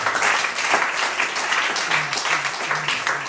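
A church congregation applauding during a service, a dense wash of clapping from many people that carries steadily through the short moment, fairly loud and close.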